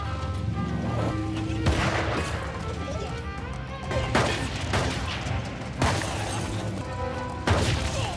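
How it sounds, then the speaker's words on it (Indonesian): Gunfire exchange in a film scene, with several sharp loud shots and crashes punctuating a dense, continuous action soundtrack, including bursts near the 1.7, 4, 5.8 and 7.5 second marks. "Saling adu tembak pun terjadi."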